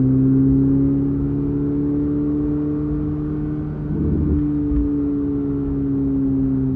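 Turbocharged car accelerating from inside the cabin, its engine giving a steady droning hum with rising tonal layers, heard alone at a moderate level with a brief rumble partway through.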